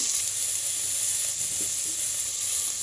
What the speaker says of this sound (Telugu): క్యాప్సికము అన్నీ వేసేస్తున్నానండి. వెజిటబుల్స్ అన్నీ వేసేస్తున్నాను. ఒకసారి కలుపుకోండి.